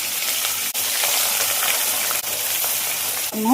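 Chicken pieces frying in hot coconut oil for a chicken dish, a steady loud sizzle with brief dips as the pieces are added and a clatter near the end.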